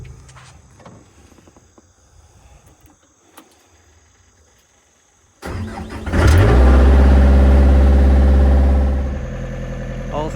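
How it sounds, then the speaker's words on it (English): A skid steer engine starts up midway after quiet outdoor ambience with crickets, then runs loud and close with a steady rumble while working to position a 40ft high-cube shipping container. "now it's time for me to do a little bit of skid steer work, and we should have a container in place"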